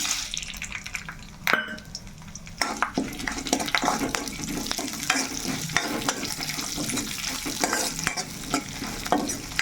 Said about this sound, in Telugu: నూనె అయితే మరుగుతుంది చూసారు కదా మనమైతే ఇవన్నీ తాళం దినుసులు అయితే వేసేసుకుందాము